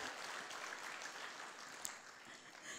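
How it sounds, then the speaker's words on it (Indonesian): Audience applause at a Malay-language Atomy company introduction meeting, a steady wash of clapping held evenly throughout with no voices over it. "Satu tepukan kepada kita semua ya."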